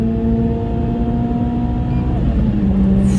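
A Renault Clio 3 RS hot hatch being driven on a quiet morning road in Ifrane: a loud, steady engine drone with a constant humming tone inside the cabin, the pitch dipping slightly near the end.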